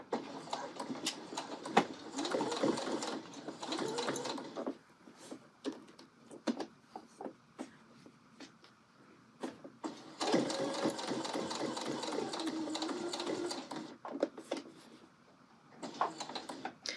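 A sewing machine stitching and backstitching a seam on a colorblocked angle coat, with two long steady bursts of rapid whirring separated by short stops and light clicks, close and clear with no talk.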